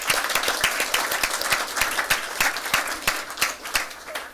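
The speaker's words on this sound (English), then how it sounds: "If you would join me in giving them a round of applause." A room of people applauds retired school staff at a school board meeting, steady dense clapping that stays even and fairly loud throughout with no one speaking.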